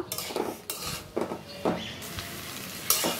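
Diced papaya frying in a pan, with a metal spatula clattering and scraping against the pan in a few sharp bursts over a soft, steady sizzle.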